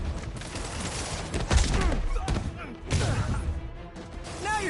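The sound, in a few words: gunfire in the Spider-Man video game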